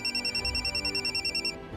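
A telephone ringtone in a Marathi TV serial scene rings in a rapid, evenly pulsing electronic pattern for about a second and a half before cutting off, with a quiet room behind it.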